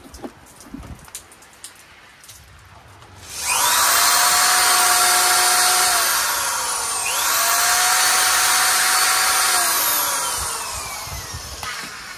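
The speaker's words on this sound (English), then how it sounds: "Here we have a home drill." Household power drill running off an ALLPOWERS R600 portable power station, a loud steady whine that starts suddenly, dips briefly in pitch midway as if loaded, then continues strongly before tailing off.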